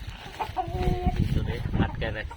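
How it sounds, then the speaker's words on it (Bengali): Chickens on an egg-laying poultry farm cluck in short, close bursts, with a few overlapping calls from several birds over a low, busy background. "এই যে ভিতরে আমাদের আরও মুরগি আছে"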